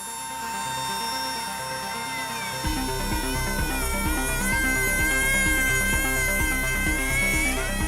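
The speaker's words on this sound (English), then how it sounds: "has to drill into the bearing's mount to replace it" A drill whines steadily and climbs in pitch, close and loud, boring into an airplane's bearing mount during heavy maintenance, over pulsing background music.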